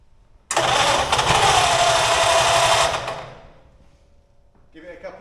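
A 1933 Ford five-window coupe engine cranks and catches, running loud and steady for a couple of seconds before dying away, with a faint voice near the end.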